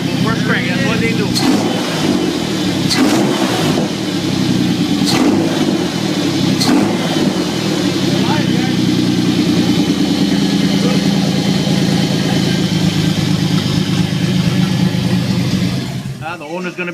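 A Toyota 3.4 engine from a 2003 Tacoma, swapped into a 1994 extra cab Toyota truck, cranks, catches and runs at a steady, loud idle close up, with people talking over it.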